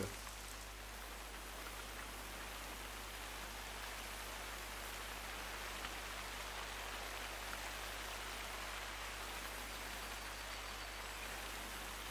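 Constant rainfall in a hunting video game, a soft, even hiss of rain that runs unbroken throughout at low level, with no talk.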